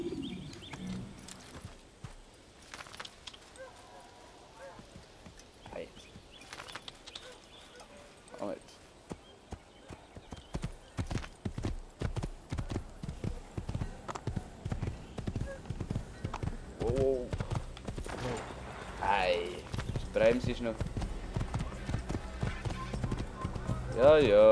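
Horse hooves clip-clop in the video game Assassin's Creed, sparse at first and then a steady, quickening gallop that grows louder, with occasional bird calls and someone talking over parts of it.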